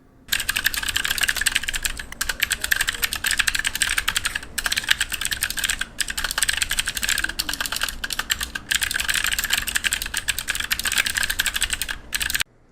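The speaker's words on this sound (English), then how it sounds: "Here's the typing sounds." Steady keyboard typing, close and continuous, with rapid clicking keystrokes and a few short pauses, no voices.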